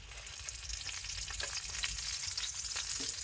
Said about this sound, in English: while our chicken is cooking away